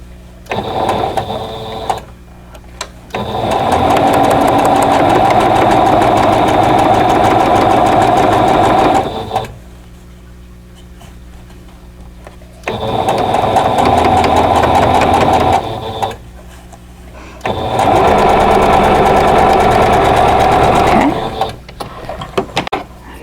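A sewing machine stitches seams on a quilt block, running loud and steady in three long bursts of whirring with short quiet pauses between them.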